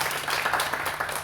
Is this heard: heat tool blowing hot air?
no